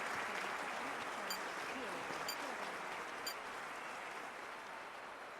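Crowd applause in a weightlifting event of a London 2012 Olympics video game, a steady, dense roar of clapping lasting throughout at moderate loudness, with faint crowd voices mixed in.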